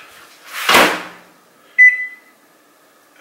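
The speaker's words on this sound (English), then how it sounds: "Then all you gotta do is just put it in the microwave." A microwave door swings open with a soft whoosh as a sweet potato goes inside, followed by a short sharp beep or click a moment later, close up in a quiet kitchen.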